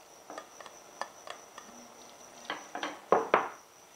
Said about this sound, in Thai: เราจะผัดให้หนังไก่คายน้ำมันออกมานะคะผัดไปมาแบบนี้ค่ะ